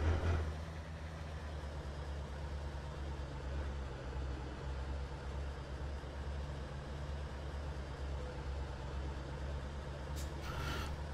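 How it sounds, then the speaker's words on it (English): Euro Truck Simulator 2: a truck's diesel engine idles with a deep, steady low rumble, then a short sharp burst of air hiss from the parking brake comes near the end, all fairly faint. "Alright, parking brake."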